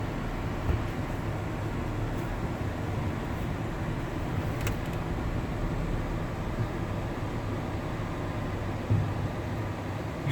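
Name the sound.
Toyota Sienna van driving on the highway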